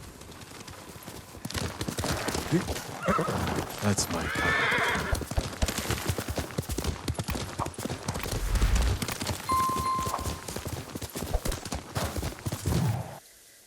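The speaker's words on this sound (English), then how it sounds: "Horse!" Horse hooves clip-clop at a steady walking rhythm in the Ghost of Tsushima game, with a horse whinny and speech over the top, moderately loud and close throughout.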